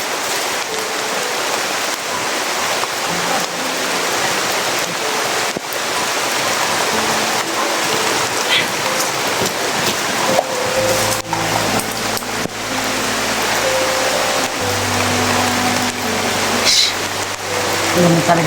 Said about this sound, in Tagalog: Ulan na talaga tol. Kaya sobrang ulan tol.